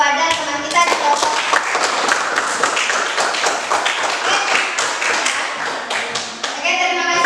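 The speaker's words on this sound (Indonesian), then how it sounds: "beri aplaus kepada teman kita di kelompok" A classroom audience gives a group that has just presented its discussion results a round of clapping, brisk and continuous, with children's voices murmuring underneath.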